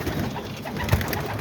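Pigeons in a loft give a faint low coo over a soft, steady background hum, with one short louder coo near the end.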